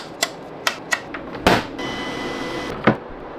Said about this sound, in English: Then let's print the text with my UV printer.